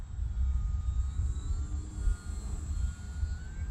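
FT Legacy model airplane flying past with half flaps: a faint, steady electric motor whine that drifts in pitch over a low wind rumble, with no talking.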